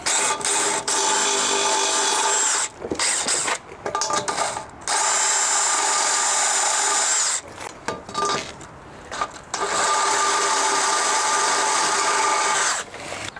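A power drill boring a half-inch hole in a metal skid plate, loud whirring bursts of grinding cut by short pauses, close and alone without talk.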